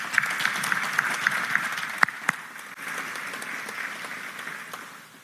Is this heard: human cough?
no